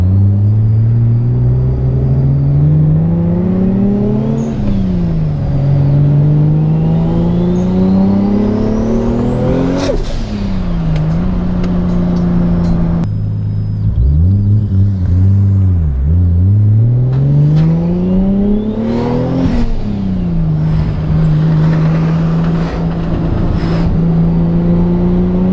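A Toyota Supra engine with a new HKS exhaust revs repeatedly and loudly, rising and falling in deep droning pulls, with a sharp throttle blip near the middle, heard close and steady throughout.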